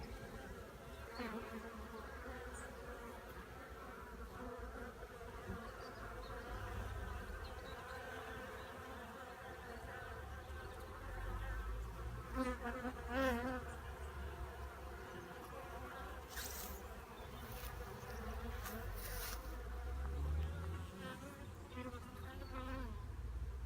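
Steady buzzing of many bees swarming close by around a hive, a continuous drone with individual insects swelling louder as they pass near.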